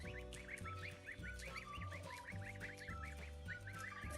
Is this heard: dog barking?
no